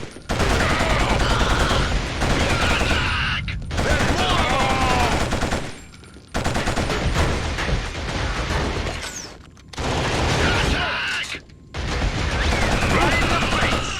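Heavy machine gun fire in the first-person shooter Killzone, loud sustained bursts of automatic gunfire broken by short pauses, mixed with game effects and some voice.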